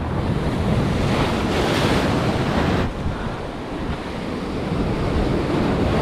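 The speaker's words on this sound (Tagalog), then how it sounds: "Malalaki ng alon dito ah." Big ocean waves crash continuously at a rocky fishing spot, a loud steady roar of surf with heavy wind buffeting the microphone; no talking.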